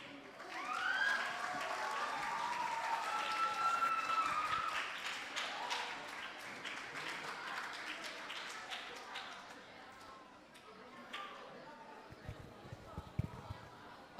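An audience at a school poetry-chain performance breaks into loud, sustained clapping that thins out gradually, with voices talking over it and a few scattered claps near the end.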